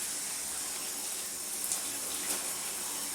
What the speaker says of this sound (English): I'm just going to use my shower